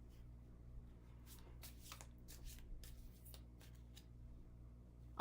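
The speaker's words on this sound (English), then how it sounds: "I'll give it 3 rounds of card shuffling." Tarot cards being riffled and shuffled by hand, a series of quick papery flutters and taps repeating through the stretch, faint and close with no talking.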